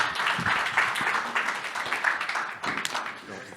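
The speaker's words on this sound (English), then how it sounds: "You can applaud them." Conference attendees applaud a panel of speakers, a fairly quiet, even spread of clapping from a seated audience that thins out toward the end.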